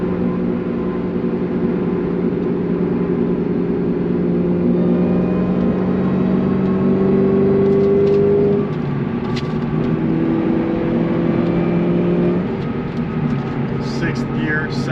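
Steady loud engine drone and road rumble inside the cabin of an 800HP Cobra cruising in fourth gear at 60 mph, with someone speaking over the continuous hum.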